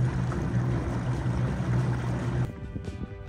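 A small boat, running without its big motor, travels onto a lake at the start of a fishing competition in Babīte, with a steady low engine drone and water wash that drops off abruptly near the end.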